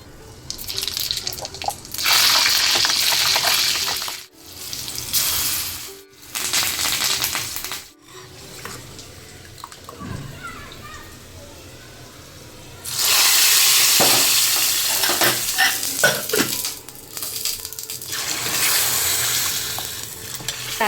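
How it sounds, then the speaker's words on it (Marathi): Spices crackle and hiss loudly as a Marathi phodni tempering hits hot oil in a home kitchen, bursts of sizzling broken by brief quiet gaps, clattering utensils and stirring, close up, with no one talking. "आता चला फोडणी देऊन घेते पटकन."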